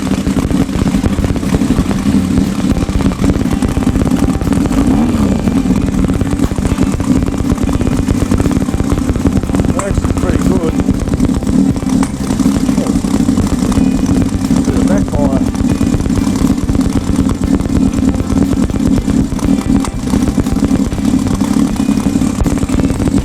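A multi-cylinder carbureted motorcycle engine idles steadily and loudly during carburetor tuning. The even, close rumble holds throughout, with a voice talking over it.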